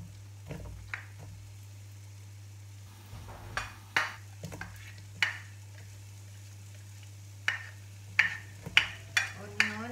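Onion sizzles in a warm pan, with short bursts of frying and stirring clatter rising over a constant low hum, closely recorded and growing busier toward the end.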